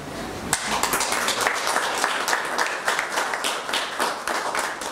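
Audience applause at a DELF diploma ceremony, a steady wash of many hands clapping that starts about half a second in and carries on loudly to the end.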